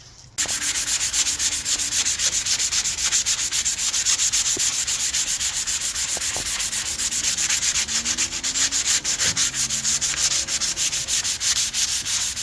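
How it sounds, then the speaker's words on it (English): Continuous rough sanding of body filler on a Honda CRX panel, a rapid scratchy back-and-forth rubbing over a hard surface, steady and close throughout with no talking. "Sanded down the first layer, feels much better."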